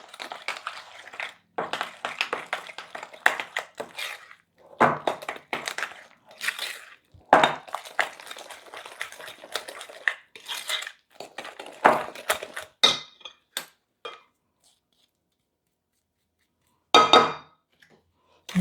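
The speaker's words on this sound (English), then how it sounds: "So now I'm going to mix in the eggs." Eggs being mixed by hand into thick chocolate chip cookie dough, heard as close, irregular bursts of squelching, scraping and crunching strokes with brief pauses and a longer gap near the end.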